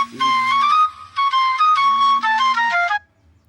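Phone ringtone: a loud, clear electronic melody of quick bright tones in short phrases over a lower sustained note, playing about three seconds before cutting off, with no talk over it.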